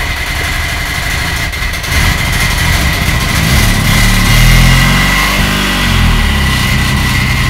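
A turbocharged Suzuki Swift GTi engine runs at a rough, unsteady idle throughout, loud and close, with its note swelling and dipping slightly and no talking over it.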